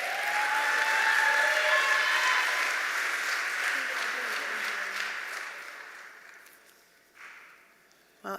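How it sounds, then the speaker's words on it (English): Another round of applause at a graduation ceremony, with a dense crowd clapping loudly at first, then thinning and fading over several seconds before a few isolated sounds and a voice at the end. "Let's give him another round of applause"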